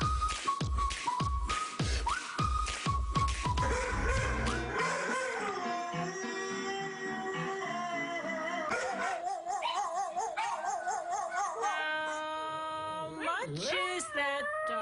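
Several dogs howl in long, wavering tones that rise and fall like singing, preceded by a burst of yips and barks, on a TV talk show.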